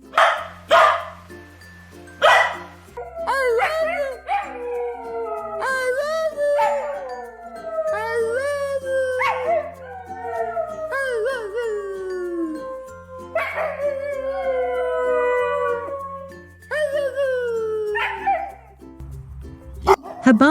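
Dog alternating barks, yips and drawn-out falling howls, several vocal bursts in sequence, close and clear with quiet gaps between.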